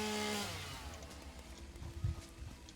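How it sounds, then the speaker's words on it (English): A chainsaw in the video game Satisfactory winds down from a buzzing whine, fading into quieter rumbling with a brief thud near the end. "Pull out our chainsaw again."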